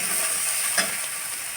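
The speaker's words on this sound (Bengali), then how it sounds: "টমেটোটা ভালোভাবে একটু ভেজে নিব" Tomato frying in a pan with onion and a pinch of turmeric for potato egg curry, a steady soft sizzle with one brief stir-like scrape in the middle, close and continuous without any voices.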